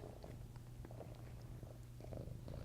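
Cinnamon, a content shelter cat, purrs steadily at close range, a continuous low rumble that runs the whole time amid faint room noise, with no talking.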